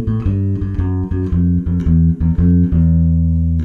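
A bass guitar plays a blues turnaround that climbs to the flat six and walks back down, a short run of clear plucked notes, close and alone with no voices.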